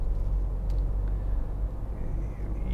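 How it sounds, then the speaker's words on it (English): A 2013 Nissan Note 1.5 dCi diesel engine runs with a continuous low rumble, steady and moderately loud throughout. "And I'll try and show you the diesel engine again."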